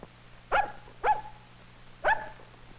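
An old dog barks three times, short sharp woofs spaced about half a second and a second apart, close and clear over a faint hum, with no talk.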